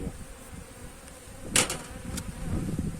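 Honeybees buzzing at a beehive during beekeeping work, a steady close hum with a couple of sharp knocks partway through.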